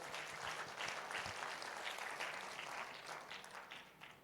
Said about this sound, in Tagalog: Isang malakas ng palakpak sa Lord.